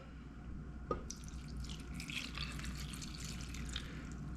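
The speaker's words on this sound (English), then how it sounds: "add a little bit of water" Water poured into a soup pot while cooking: a faint clunk followed by a soft, steady trickling splash with light bubbling and dripping, quiet and close against a low background hum.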